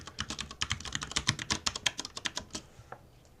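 Rapid keystrokes on a computer keyboard as a password is entered, a steady run of close, crisp clicks that slows and stops near the end, with no talking.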